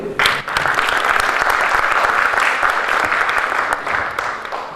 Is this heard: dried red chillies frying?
no